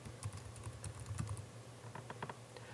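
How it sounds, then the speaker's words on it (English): Quick bursts of key clicks on a computer keyboard as a short word is typed, crisp and close but quiet, with a brief pause between two clusters of keystrokes. "I will type in the word personal."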